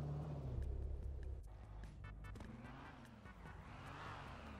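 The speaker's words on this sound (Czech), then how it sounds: "Hele, auto!" A car drives past with a low engine rumble that swells and then fades. It is fairly faint and has no talking over it.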